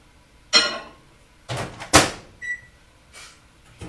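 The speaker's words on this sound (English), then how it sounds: "I'm going to heat this up real quick in the microwave." Microwave oven used to heat a protein food: a door opens with a clunk, thuds and clatter of a container follow, then a short electronic beep and another soft knock, close by and without talk.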